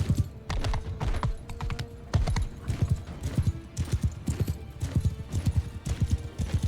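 Cavalry horses gallop across a battlefield in the video game Mount and Blade Bannerlord, dense overlapping hoofbeats pounding in fast irregular clusters, loud and close, with an occasional whinny mixed in.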